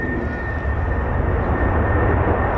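A steady, loud roar and whine of an F-16 fighter jet engine running on the ground at RAF Lakenheath air base, held constant with a thin high tone over a broad rumble.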